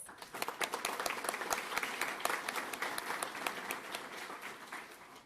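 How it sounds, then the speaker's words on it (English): Sustained audience applause at a traffic-safety symposium, dense overlapping clapping from a sizable crowd that holds steady for about five seconds before tapering slightly at the end. "Please join me in thanking these amazing sponsors with a round of applause."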